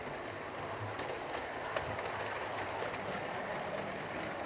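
A Hornby Bulleid Pacific model locomotive hauling lit coaches runs steadily on its track, giving a continuous low rumbling whir with faint rhythmic clicking of wheels, heard alone.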